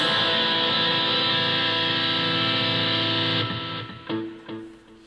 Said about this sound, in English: A minor add 9 chord sounds like this.